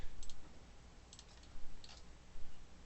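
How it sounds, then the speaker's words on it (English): A few faint, crisp clicks from a computer keyboard, spaced out over soft background hiss, with no talking. "if I tap 3 on my keyboard,"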